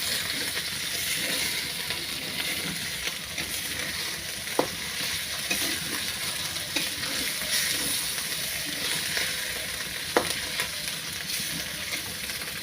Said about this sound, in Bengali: মশলাটা দেখেন যে ভাজা ভাজা হয়ে